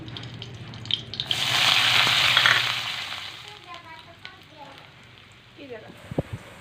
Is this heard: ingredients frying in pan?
yes